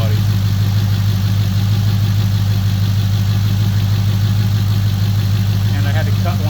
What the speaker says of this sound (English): Might be the first gen Coyote running on a 4th gen intake.